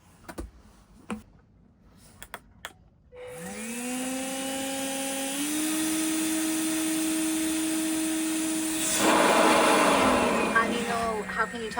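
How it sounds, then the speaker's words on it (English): After a few clicks, a vacuum cleaner with a blower attachment whirs up to a loud, rising whine that holds steady and then shifts pitch as airflow changes. "Now I need the blower attachment for the vacuum."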